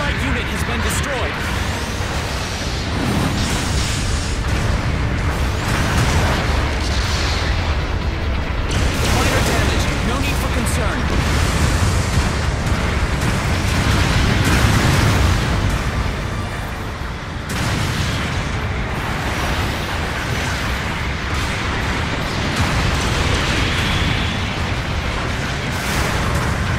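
Long range supporting fire explosions in Gundam Battle Operation 2, a dense, loud barrage of booms and blasts rumbling almost without pause, mixed with game effects and radio voices.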